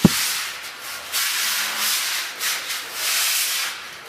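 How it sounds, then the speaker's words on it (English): Hand sanding of walls on a building site, steady scratchy rubbing that rises and falls in strokes, fairly close, with no voices. "Well, we've been sanding since yesterday morning."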